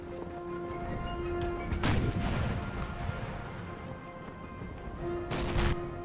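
Musket and artillery fire on a Louisiana bayou battlefield in Empire: Total War, with sharp crackling volleys near two and five and a half seconds over a low rumbling backdrop and a steady tonal hum.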